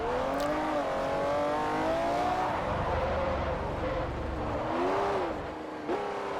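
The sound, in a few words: McLaren car driving in video game Forza Motorsport 4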